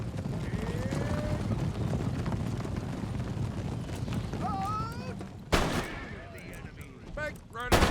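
Musket and artillery fire in the strategy game Empire: Total War, a dense rumble of distant shots under battlefield noise, with louder cracks and bursts standing out near the end.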